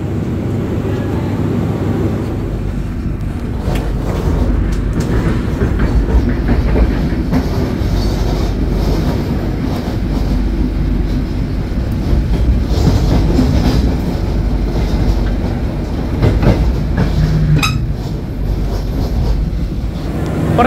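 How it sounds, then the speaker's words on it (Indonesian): A Kaligung passenger train rides on the rails near Tegal station, a loud, continuous rumble with rhythmic clicking of wheels over joints, heard from on board. "Perjalanan saya naik kereta api Kaligung sudah sampai di stasiun Tegal."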